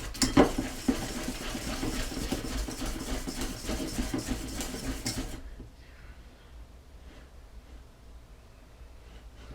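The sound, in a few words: mixing almond-flour sponge batter for Joconde biscuit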